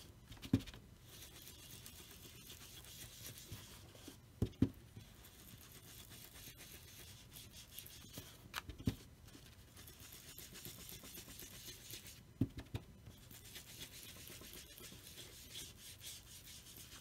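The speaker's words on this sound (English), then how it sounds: "It's hard when you're inking a whole surface like that." An ink pad being rubbed across a card surface for journaling, a soft, close scuffing and rasping with occasional sharper taps, quiet and intermittent.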